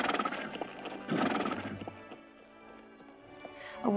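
A horse walks with hooves clip-clopping in quick, close bursts that fade to a quiet stretch, then the horse gives a short whinny at the end.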